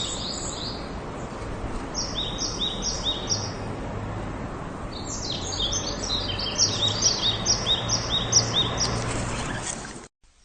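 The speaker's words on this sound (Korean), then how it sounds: "제가 직접 녹음한 새소리 함께 들려드릴게요" Birdsong recorded outdoors in spring: many bright, high chirps and trills repeat in quick clusters over a steady background hiss, growing busier toward the end and stopping abruptly.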